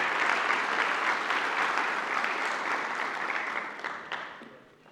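Audience applause at a governor's symposium, a dense steady clatter of many hands clapping that holds evenly for about four seconds, then thins and fades away toward the end.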